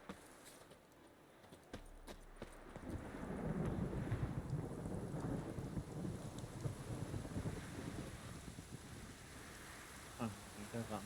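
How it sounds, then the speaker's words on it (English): A thunderstorm in the video game The Witcher 3 rises into a loud, rushing roar of wind and rain with low rumbling, after a few sharp cracks, and keeps up steadily. "The storm, damn it."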